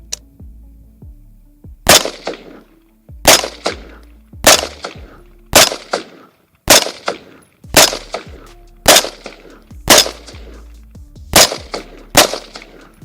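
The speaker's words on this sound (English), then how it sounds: "let's put 10 rounds in the head" Ten rounds fired one after another at a target, each a loud, sharp gunshot with a short decaying tail, spaced roughly a second apart in a steady, deliberate rhythm.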